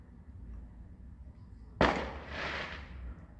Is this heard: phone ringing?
no